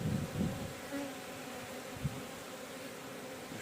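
Continuous low buzzing of honey bees, steady and fairly faint, with a few slightly louder swells as insects pass close.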